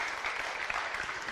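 Audience clapping at a talk or seminar, a brief dense burst of many hands heard close and steady throughout.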